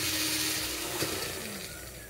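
A kitchen mixer grinder whirs steadily as it grinds soaked mustard seeds, ginger pieces and dried red chillies into paste, a continuous motor drone with no talking.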